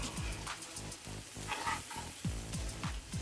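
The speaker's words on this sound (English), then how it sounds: "Right now we're going to put some butter in the skillet." Butter sizzles in a skillet, a continuous close crackle with a few soft clinks and scrapes mixed in and nobody talking.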